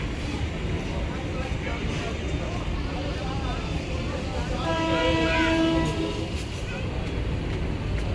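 A train passing beside a riverside road along the Ganges, with a continuous loud rumble of rolling wagons and a sustained horn blast midway, while people talk nearby.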